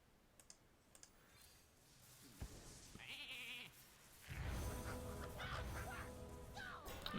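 A sheep bleats in the Hearthstone card game after a polymorph spell, a short wavering bleat preceded by soft keyboard clicks and followed by louder game effects.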